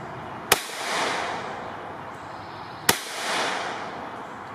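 Two sharp, loud rifle cracks from a .22 WMR firing Maxi Mag hollow points, spaced a couple of seconds apart, each followed by a brief rolling outdoor echo, with no talking.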